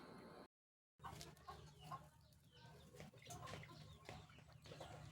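A white Rhode Island Red hen clucks close by in a series of soft, repeated clucks, with no voices around.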